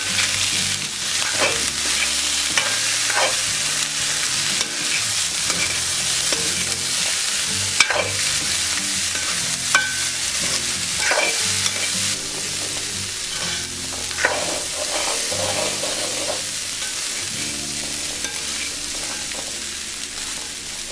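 Chickpeas stirred and fried in a pan for chickpea kottu, a steady bright sizzle with repeated scraping strokes of the spatula and occasional sharp clinks, close and alone.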